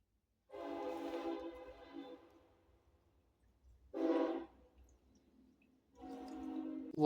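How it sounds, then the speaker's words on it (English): A train horn sounds in long blasts, three of them with pauses between, over a low rumble of a passing train; no talking. "Oh, I hear a train coming."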